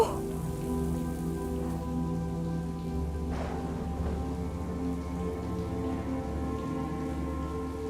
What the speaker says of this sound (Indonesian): beneran hujan kan?